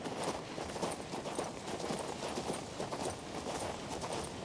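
Quiet hooves beat in a quick, steady rhythm, a horse galloping along at a distance under faint background sound, in the video game King's Bounty 2.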